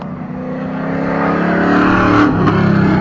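The number 71 race car pulls in off the track at Waterford Hills Big Bore Bash 2025 while retiring from the race, its engine droning loudly and building steadily in pitch, with brief tonal sweeps near the end.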